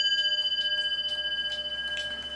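A 1908 William Gilbert Curfew mantel clock, its hammer missing the leather insert, gives quiet sustained ringing tones over a soft regular ticking, faint and close with no talk.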